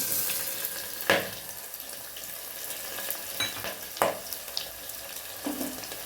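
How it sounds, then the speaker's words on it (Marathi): Lengthwise-sliced onion fries in a pan with cinnamon and bay leaf, giving a steady, close hiss of sizzling oil broken by a few sharp scrapes or clinks of stirring; no one speaks. "मी कांदा घेतला होता उभा कट करून बघा तो ह्याच्यात टाकून देऊया आपण"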